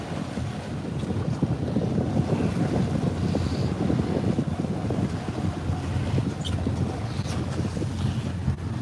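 Yamaha outboard engines on a Southport boat roar steadily as the hull accelerates up onto plane, a close, continuous low rumble mixed with heavy wind buffeting and rushing water, with no talking.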